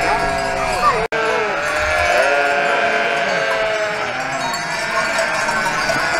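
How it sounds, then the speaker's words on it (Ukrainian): Many sheep bleat together in a dense, continuous chorus on a mountain pasture as they are let out, with layered overlapping calls near and far and a brief cut partway through. "Зараз ідемо пускати вівці"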